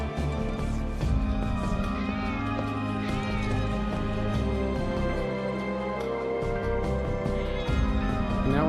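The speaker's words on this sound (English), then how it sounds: "Oh, look at these kitties!" Several cats meowing in the video game Final Fantasy 7 Rebirth, repeated mews overlapping over a bed of background music, moderately loud and steady throughout.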